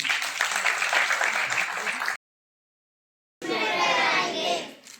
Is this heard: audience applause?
yes